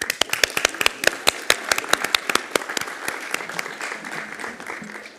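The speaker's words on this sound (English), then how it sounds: "let's give them a round of applause" Applause for graduates at a city council meeting: a small group claps with distinct, crisp individual hand claps, lively at first and gradually thinning and softening toward the end.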